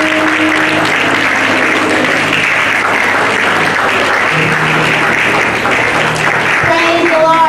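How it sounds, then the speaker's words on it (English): A church audience at a Children's Day service applauds, sustained loud clapping filling the room throughout with a few voices heard beneath it. "let's clap for them"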